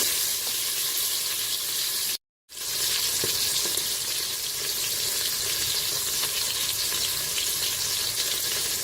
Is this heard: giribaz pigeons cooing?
no